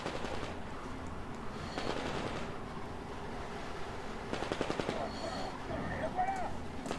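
Military rounds are fired in the Metro Exodus video game, heard as rapid clusters of sharp automatic gunshots at moderate volume over a rumbling background, coming in short bursts with pauses between.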